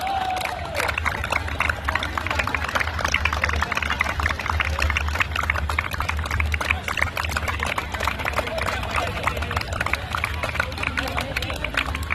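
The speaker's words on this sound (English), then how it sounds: "A huge round of applause for our best goalkeeper." Steady applause and clapping from a crowd at a school football tournament, continuous and dense throughout with a low rumble of voices underneath.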